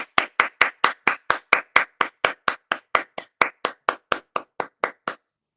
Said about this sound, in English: I had to applause myself.